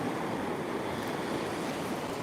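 Big sea waves roll and crash onto the beach at Bacton, North Norfolk, a steady close roar of surf with wind noise and no voices.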